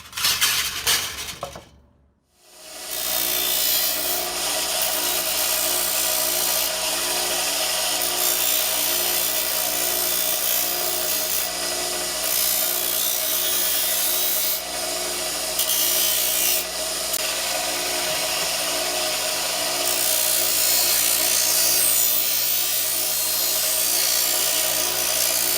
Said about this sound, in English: hammer them flat, and then start sanding them down.